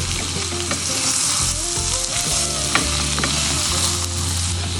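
Spices with asafoetida sizzle and fry in a pan while being stirred for a Kerala-style ginger curry, a steady loud crackle with scraping of the spoon against the pan and no talking.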